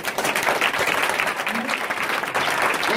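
A church congregation claps and cheers in sustained, dense applause filling the room, with voices mixed into the noise.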